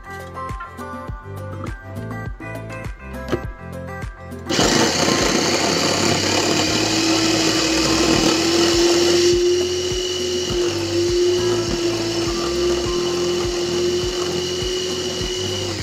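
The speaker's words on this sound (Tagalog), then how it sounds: "ang sunod natin gigilingin mga suki, yung ating chicken breast" An electric meat grinder runs with chicken breast for sisig, starting after a few seconds of rhythmic music and rising to a loud, steady motor whine that continues to the end over the backing music.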